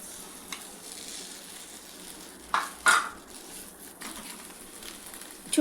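Cauliflower coated in egg fries in a pan with a soft, even sizzle, punctuated by a couple of louder scraping or turning clatters midway and a knock at the end.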